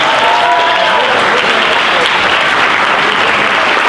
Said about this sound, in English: lead a round of applause for student performers from the high school jazz band